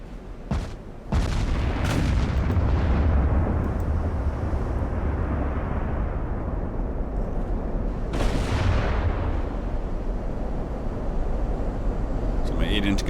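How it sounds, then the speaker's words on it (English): Heavy 8-inch battleship guns fire in the naval video game Ultimate Admiral: Dreadnoughts: a few loud, sharp booms spaced seconds apart over a continuous deep rumble of engine and sea noise. "So my 8-inch guns are firing now"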